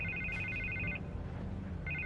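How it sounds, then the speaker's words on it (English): A telephone rings in a Batman video game. The electronic ring comes in two steady pulses separated by a pause, over a low rumbling background with no talking. "I can't get the phone to stop ringing."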